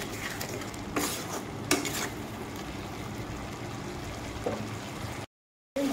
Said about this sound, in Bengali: একটু নাড়িয়ে চাড়িয়ে মশলাটাকে ভালোভাবে কষিয়ে নেব।